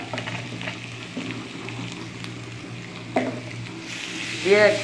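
Food frying in a pan with a pot of masala for meat, stirred with a steady sizzle and occasional scrapes; a voice speaks briefly near the end.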